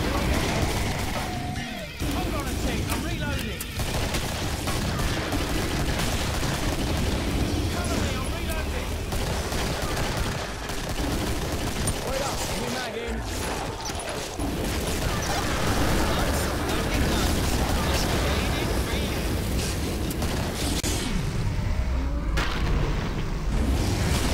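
Pipe bomb blasts and gunfire in Killing Floor, a continuous barrage of booms and shots with voices talking over the din, loud and dense throughout.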